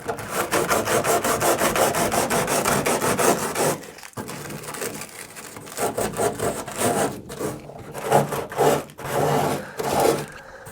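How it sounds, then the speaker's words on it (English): Sanding around pipework on ICF blocks: steady, rhythmic back-and-forth rasping strokes, close and loud for about four seconds, then a short pause and more irregular scrubbing passes. "I can actually sand this down as well"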